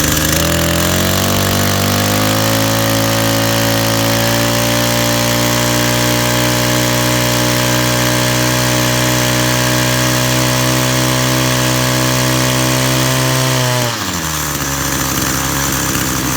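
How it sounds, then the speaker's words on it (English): A small lawn mower or trimmer engine runs loud and steady, its pitch rising and then holding before it sputters and drops near the end as it starves for fuel, sucking more air than gas. "That's running out of fuel. It's sucking more air than gas."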